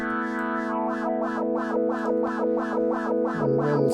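Tranzistow synthesizer holding a sustained tone while an LFO sweeps its filter, giving a rapid, regular wah-like wobble, steady and loud throughout with a pitch shift near the end.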